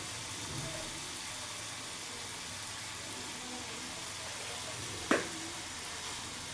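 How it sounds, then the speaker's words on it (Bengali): Spices frying in a pan for a small-fish kasundi dish, a steady soft sizzle throughout with one sharp brief clack near the end. "মশলাটা ভাজা ভাজা হয়ে গেছে।"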